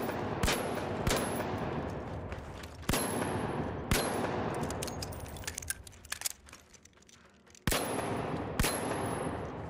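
Pistol gunfire in the online shooter The Finals: several sharp, loud single shots spaced irregularly over steady game ambience and scattered clattering, no talk.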